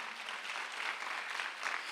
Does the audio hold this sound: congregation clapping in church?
yes